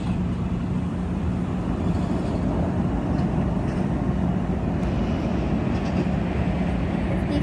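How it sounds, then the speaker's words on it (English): BNSF freight train with locomotive 2375 rumbling past close by, a loud steady roar of rolling wagons with faint metallic squeals. "look at the 2375 locomotive"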